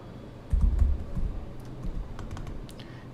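Typing on a computer keyboard while editing a resume, a steady run of close, soft clicking keystrokes with no voices.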